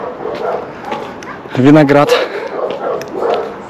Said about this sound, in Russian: Собачки лают на них.